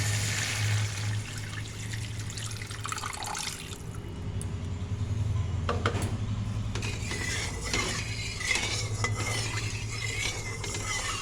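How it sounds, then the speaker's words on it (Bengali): Spices are stir-fried together in a pan for restaurant-style pointed gourd curry, giving a low, steady sizzle under scraping and rattling spatula strokes that grow busier toward the end. "এবার আমি সমস্ত মশলাগুলো একসাথে ভালো করে কষিয়ে নিয়ে এর মধ্যে দুধটাকে ঢেলে দেব।"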